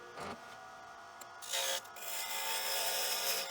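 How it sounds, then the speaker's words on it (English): A parting tool scrapes and cuts through spinning wood on a woodturning lathe, a dry rasping hiss that swells louder partway through and holds steady, close and alone. "I'm using a parting tool to cut through the piece of wood here."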